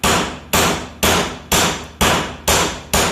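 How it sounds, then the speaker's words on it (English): Loud metallic hammer blows pounding out an axle U-joint on a Jeep Cherokee, seven evenly spaced hits about half a second apart, each ringing and fading before the next. "I'm going to pound these out with a hammer"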